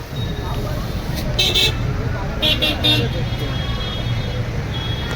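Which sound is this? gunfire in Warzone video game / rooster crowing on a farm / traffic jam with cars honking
traffic jam with cars honking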